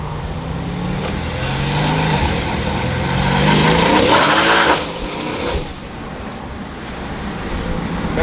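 A Mercedes-AMG C63S fitted with Pure turbos revs hard outdoors, its loud engine roar and whoosh rising to a peak and then cutting off, with a steady broadband roar all the way through.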